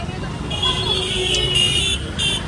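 Crowded street traffic during a pilgrimage procession, a steady broadband roar of vehicles with faint horn-like tones, heard under ongoing voices throughout.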